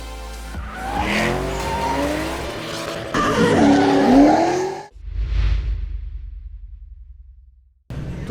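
A BMW 1M drift car skids through a corner with loud, sustained tire squeal and engine roar for about five seconds, then a quieter low rumble fades before noise returns at the end.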